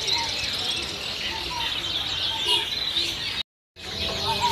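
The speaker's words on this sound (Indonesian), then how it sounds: "untuk di atas berikutnya ini ada ready juga stok burung murai Papua" Papuan magpie-robins in a bird shop give steady, overlapping chirps and tweets close by, a busy birdsong bed running throughout with a brief dropout near the end.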